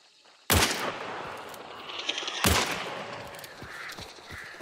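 Two sharp, loud gunshots crack out a couple of seconds apart in the video game Hunt: Showdown, each followed by a long echoing tail that rolls off into the open surroundings.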